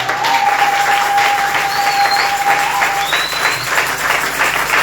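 Steady applause from a church congregation celebrating their pastor's jubilee and twenty years of marriage, dense and continuous throughout, with a sustained whistle tone and a few rising whistles riding over the clapping.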